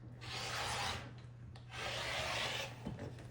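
Two close, quiet rasping strokes of a blade cutting fabric strips along a ruler, each about a second long with a brief pause between, over a faint low hum.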